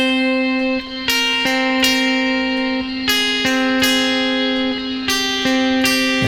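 A clean, sustained electric guitar picks a steady Aeolian scale interval pattern, one note after another in an even rhythm, with a constant drone underneath.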